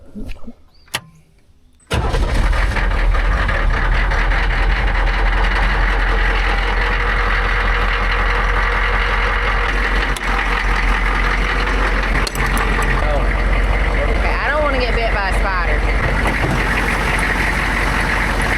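An old military truck that has long sat unused starts after a short silence with a few faint knocks, then settles into a loud, steady, rough idle that runs close and continuous to the end.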